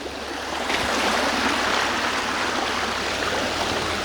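Wading knee-high through a frigid stream near White Oak Falls, a steady close rush and churn of water that swells after a quiet start and then holds loud and even, with no talking.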